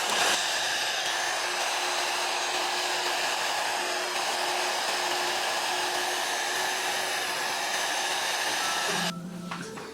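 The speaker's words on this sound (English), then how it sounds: "I'm gonna be blow drying his hair with medium heat." A hair dryer blows steadily on medium heat while drying a man's hair during a low drop fade haircut, a loud close whine that holds for most of the clip and then drops off abruptly near the end.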